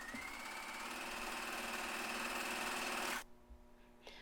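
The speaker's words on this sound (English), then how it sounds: "So first of all, let's go ahead and sew the underseam together." Sewing machine running steadily as it stitches the underarm seam of a sleeve on a McCall's 7543 garment, a continuous close whir that stops abruptly near the end, leaving quiet room tone.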